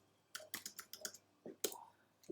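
Keys on a computer keyboard are tapped in a quick, uneven burst of crisp clicks, close and quiet, with a brief pause before a few final strokes, no talk.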